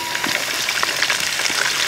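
Curry leaves frying in hot oil for a Kerala-style dates and grape pickle, a steady dense sizzle and crackle held close for the whole short stretch, with no voices.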